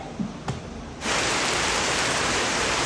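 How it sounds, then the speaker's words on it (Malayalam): Heavy rain at a house in Kerala suddenly swells into a dense, steady roar after a brief quieter start with a couple of soft knocks, loud and continuous throughout. "മഴ കേട്ടു തോന്നുന്നത് നല്ല ശക്തിയായിട്ട് പെയ്യുന്നുണ്ട് മഴ"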